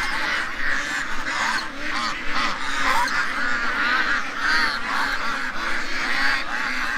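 Agitated ducks honk and quack nonstop in a loud, crowded clamor, many birds calling over each other at close range.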